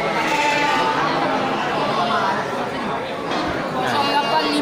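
At a busy animal market, male goats and rams bleat repeatedly amid a constant hubbub of people chatting, the animal calls blending into the loud crowd noise.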